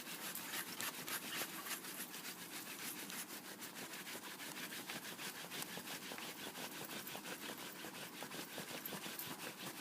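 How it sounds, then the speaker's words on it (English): Hand rubbing wax onto the wooden top surface of a clock case, a steady continuous scratchy friction sound with quick repeated back-and-forth strokes, close and even throughout with no talking. "it's definitely rubbing that surface with friction, polishing"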